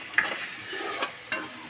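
Onions frying in a pan until translucent, with a steady sizzle and a few soft scraping strokes as they are stirred up close.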